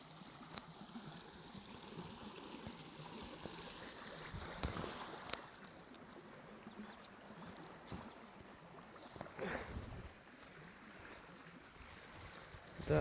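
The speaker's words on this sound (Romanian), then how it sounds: "Apă, ia uitați aici, curge. Ce viteză curge." Storm runoff water rushes fast along a gravelly path, a faint continuous wash with wind buffeting and a few footstep-like knocks and scuffs close by.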